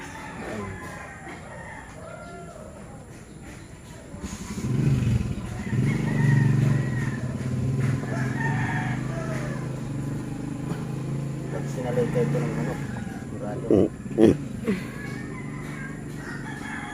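A rooster crows and chickens cluck nearby in a backyard garden, mixed with people talking and occasional background clatter.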